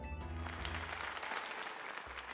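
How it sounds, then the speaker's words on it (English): A burst of clapping and cheering from a crowd in the video game Pokémon Legends: Z-A, steady and sustained throughout, with a synthetic, game-like quality. "Now then, let us give another heartfelt round of applause to GriffinOni."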